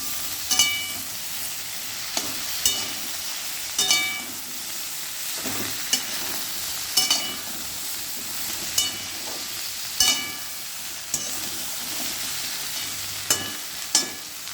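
Green chillies, tomato and ginger paste sizzle and fry in a pan while a spoon stirs with steady scraping strokes roughly every second or two, the frying hiss constant underneath, close and with no talking.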